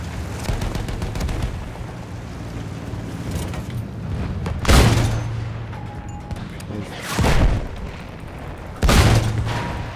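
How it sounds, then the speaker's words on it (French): Grenade blasts in the World War I shooter Battlefield 1 land as several heavy, booming explosions a few seconds apart, rising over a continuous rumble of battlefield noise. "Une grenade sur nous!"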